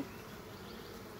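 A swarm of honey bees hanging in a chain inside their hive gives off a steady, dense buzzing drone, close and unbroken, with no voices.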